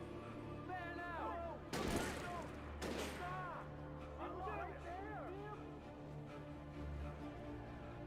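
Two sharp gunshots crack about a second apart in the video game Alan Wake, set against a background of in-game dialogue and ambient sound.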